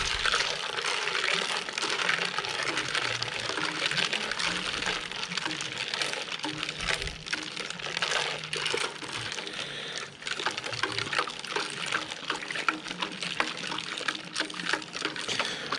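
Beer wort is stirred during home brewing, a steady churning slosh of liquid with scraping and splashing that runs continuously, close and dense, with no clear pauses.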